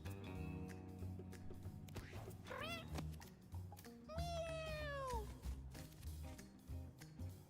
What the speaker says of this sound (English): I really like the cat noises in this game